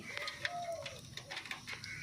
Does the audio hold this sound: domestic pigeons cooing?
yes